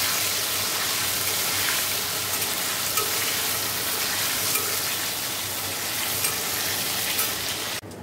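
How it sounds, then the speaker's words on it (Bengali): Potatoes fry in a pan with a dense, steady, loud sizzle that holds evenly throughout before cutting off abruptly at the end. "দেখো আলুটাও ভাজা হয়ে গেছে।"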